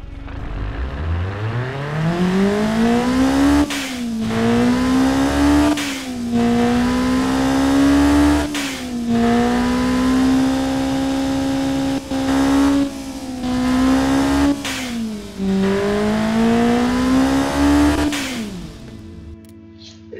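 A loud lightweight turbocharged car engine revving hard and repeatedly on a dynamometer toward 9000 rpm, pitch climbing and dropping in waves, sustained high-rpm roar up close with no talk.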